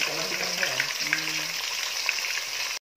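Tilapia fries in a pan with a steady, close sizzle and crackle of hot oil, broken by a few brief background sounds, before cutting off abruptly near the end.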